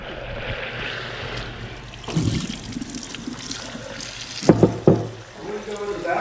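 A kitchen tap runs, water splashing and trickling into a sink in an uneven stream, with louder gushes and clatter midway while people talk faintly nearby.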